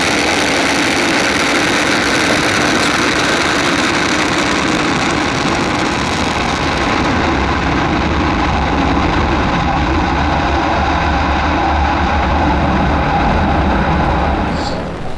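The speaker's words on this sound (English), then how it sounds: "Engine ignition, lift off of the Falcon 9 rocket" A SpaceX Falcon 9 rocket on the CRS-8 launch roars at engine ignition and liftoff, a loud, continuous broadband rumble that holds steady for the whole stretch, its hiss softening slightly toward the end.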